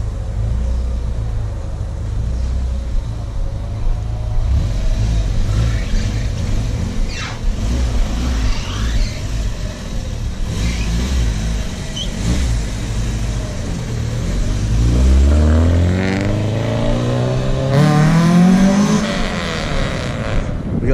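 A Honda car engine with VTEC revs up and climbs in pitch, loud and close, over a rumbling idle. Voices can be heard faintly in the background.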